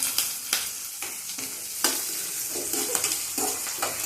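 Potatoes fry for a potato kara kuzhambu, a steady sizzle in an open pan punctuated by repeated sharp scraping stirs every half second or so, close and moderately loud with no voices.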